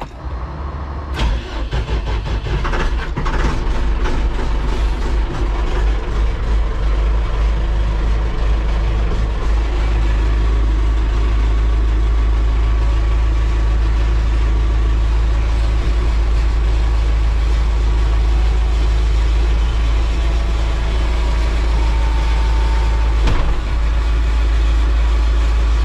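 Diesel engine of a Chinese wheel loader cranks and catches, then settles into a steady, loud, low rumbling idle that continues without a break, with a few faint clanks over it.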